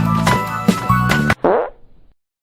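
A loud, comic fart sound effect plays as a series of buzzy blasts, then ends in a short, springy downward squeal before falling silent.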